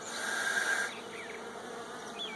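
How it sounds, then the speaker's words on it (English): Honey bees buzz steadily inside a hive, feeding on candy among freshly drawn comb, in a close, continuous drone with no voices. "There's so many bees in there eating the candy."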